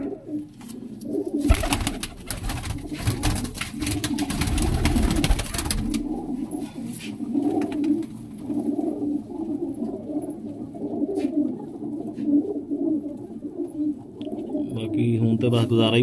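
Pigeons coo steadily in soft, low rolling calls, close by, while someone talks over them and a brief rattling noise intrudes early on.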